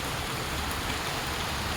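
Heavy rain pours down in India, a dense, steady hiss that fills the whole stretch, loud and close with no voices.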